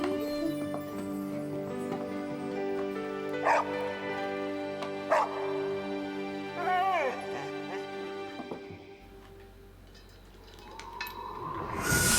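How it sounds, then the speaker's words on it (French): A dog gives several yips and short barks with a whining whimper in between, close by, over a steady bed of background music. "Bon chien, Claudie."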